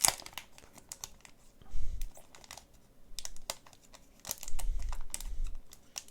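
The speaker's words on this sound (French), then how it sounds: "Au niveau des cartes, elles sont bien emballées. Je vais essayer de vous déballer ça." Naruto Kayou trading cards in a collector box being unwrapped from their packaging: loud, close crinkling and tearing of plastic wrap in repeated bursts, with sharper crackles between rustling passages and no talking.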